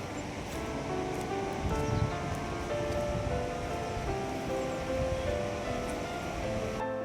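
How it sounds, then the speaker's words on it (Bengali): A small, fast glacier-fed river rushes beside a roadside in Bhutan near Chendebji Chorten, making a continuous loud even roar of flowing water with no voices. "এর পাশ দিয়ে একটা কলকল করে নদী বয়ে চলেছে"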